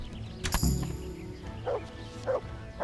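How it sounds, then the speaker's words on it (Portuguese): A dog barks twice in the medieval RPG Kingdom Come: Deliverance, two short mid-distance woofs spaced about half a second apart, following a louder thud and heard over low game ambience. "Olha lá o cachorro."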